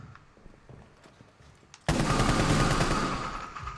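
Video game gunfire erupts suddenly into a loud, sustained burst of rapid automatic shots after quieter clicks and footsteps.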